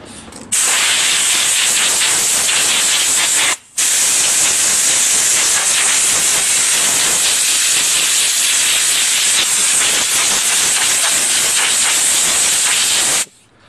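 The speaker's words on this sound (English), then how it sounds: "We could save that by beating out some dirt and giving it a good blow." Compressed air blasts through the air filter of a modern Briggs & Stratton lawn mower, a loud continuous hiss with one brief break near the start, held steady for about thirteen seconds with no talking.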